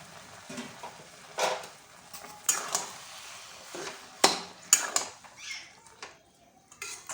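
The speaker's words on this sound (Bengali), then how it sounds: "ভালো করে নাড়াচাড়া করে নিলাম" Metal spoon clinking and scraping against a pan while sugar is stirred into tomato and jujube chutney, sharp irregular taps and scrapes at close range, moderately quiet with no talking.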